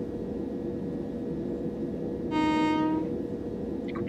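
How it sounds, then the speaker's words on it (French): Horn of a Class 377 EMU electric train at Denmark Hill in the Train Simulator 2017 game, one short, loud two-tone blast heard over a steady rumble of the running train. "Petit coup de klaxon, ouais, c'est pas mal."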